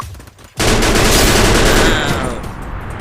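Loud, rapid automatic gunfire in the Free Fire video game erupts abruptly after a short quieter moment, sustaining a dense burst of shots for about two seconds before tapering off.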